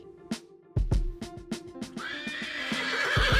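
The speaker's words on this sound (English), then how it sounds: "It's a horse." A horse neighs loudly, a long shaky whinny with rising and falling pitch, preceded by a few sharp knocking sounds.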